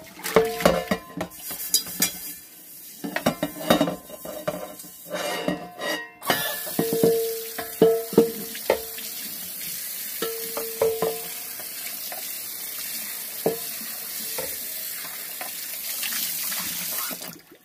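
Stainless steel pans being washed at a kitchen sink, with running tap water, scrubbing and clattering metal in bursts, then a steadier rush of water; no talking.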